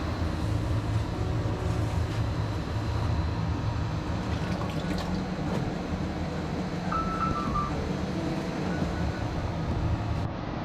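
Water being pumped or drawn out of a yacht's rusty tank during a refit, a steady low rushing, gurgling wash that continues unbroken for about ten seconds with no voices.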